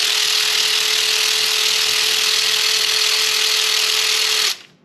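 A power tool spins a 6mm Allen socket on a 2014 Massimo MSU 800 UTV, giving a steady, loud, high whirring drone with a constant motor tone that runs unbroken for about four and a half seconds before cutting off abruptly.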